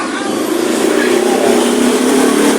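A motorcycle engine, recently serviced with new bearings, revs loudly and close, a steady droning roar that holds for a few seconds.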